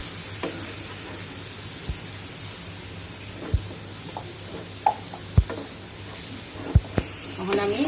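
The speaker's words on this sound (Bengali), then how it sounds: "তখন আমি মশলাটা কষানো পর্যন্ত অপেক্ষা করব" Spice paste for chicken curry frying in oil in a pan, a steady soft sizzle with several sharp spoon scrapes and taps against the pan breaking through at intervals.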